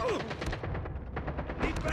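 Gunfire in Call of Duty Mobile, Search and Destroy mode: a dense, continuous burst of rapid shots and booms, loud and close, with a player's voice briefly heard over it.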